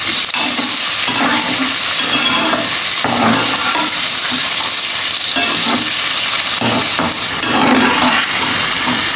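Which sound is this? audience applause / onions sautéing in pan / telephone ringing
onions sautéing in pan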